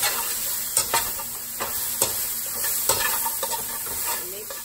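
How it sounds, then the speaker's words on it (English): Peppers and chopped bacon frying in a skillet, a continuous bright sizzle with repeated scraping strokes of a utensil stirring the pan, close and even throughout. "I'm gonna add half of the chopped bacon. And we're just gonna cook this until the peppers are cooked down."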